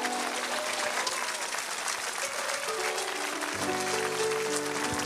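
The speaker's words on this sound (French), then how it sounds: "On peut acclamer Jésus, frère." A church congregation bursts into steady, enthusiastic applause, a dense wash of clapping with a voice and sustained low tones rising beneath it toward the end.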